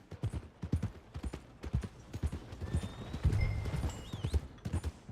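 Horse hooves clip-clopping steadily at a walk in the Red Dead Redemption 2 video game, a close, rhythmic string of hoof strikes with a brief whinny and faint ambient sounds in between.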